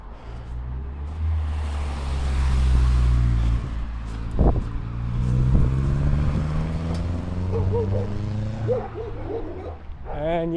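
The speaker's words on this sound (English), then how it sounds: "there's a car coming behind my back though" A car passing on a road beside a walking trail, its engine hum rising and falling as it goes by close, loud at first, then fading while a brief thump and voices sound near the end.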